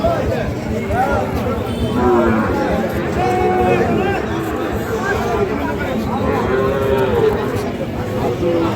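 Sahiwal-breed bulls and calves at the Ambari livestock market moo repeatedly, several long calls rising over a steady hubbub of crowd chatter and nearby talking.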